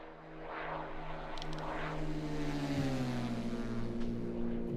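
Cessna Grand Caravan or Cirrus SR22 propeller aircraft flying past in the X-Plane 12 flight simulator: a continuous loud engine drone and propeller hum whose pitch slides downward as it passes.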